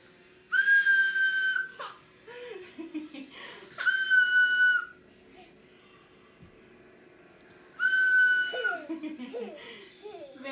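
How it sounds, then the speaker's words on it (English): A person whistles three times, each a sustained steady high tone lasting about a second, separated by pauses, close and loud, with a baby's giggles following the whistles in a room at home. "Or do the whistle."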